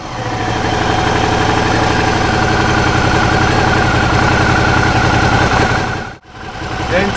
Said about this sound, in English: start the engine. We will let the engine run for a few minutes